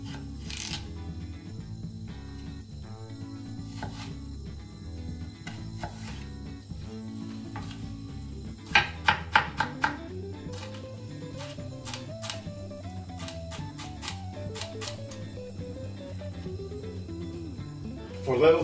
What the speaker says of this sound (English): Celery, we need to cut it.